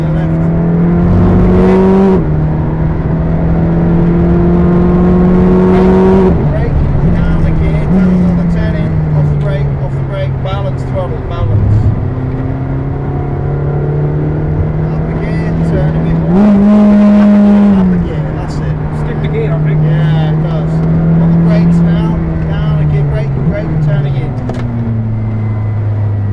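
A McLaren 620R laps Silverstone circuit, its engine note holding a steady drone and jumping with gear changes and revs, while a voice talks over it from inside the car.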